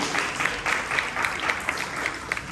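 Children applauding in an elementary school classroom, a dense patter of many small hands clapping steadily at close range for a couple of seconds, with no talk over it.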